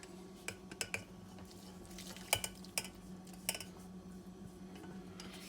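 Cheesecake crust being mixed by hand in a bowl with salt, sugar and butter, giving scattered clinks and scrapes of utensil against dish over a steady low hum, with no talking.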